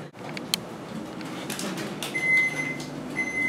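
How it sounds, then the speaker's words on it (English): A kitchen oven signals it has finished preheating with two short electronic beeps, a clear tone repeated about a second apart over a low room hum and faint handling noises. "that's my oven telling me it's ready"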